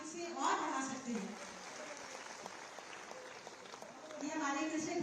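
At a farmers' ceremony for free irrigation electricity, with the chief minister present, a crowd applauds at some distance while someone speaks over a PA, the clapping steady beneath the amplified voice.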